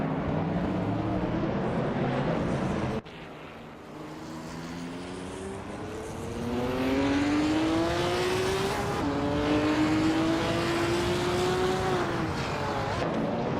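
Race car engines in a racing video game, several cars revving and shifting up through gears as they overtake, a steady whine climbing in pitch with a brief drop between shifts, moderately loud and continuous.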